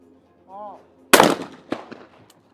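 A single loud, sharp shotgun blast from a trap shooting final, followed by a smaller crack or echo a moment later; a short tone sounds just before the shot.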